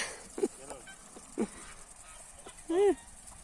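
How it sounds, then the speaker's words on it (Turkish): A few short honks from geese, three brief calls spaced out with the last one longer, fairly close against a quiet background. "Ee, kazlarımız da geldi."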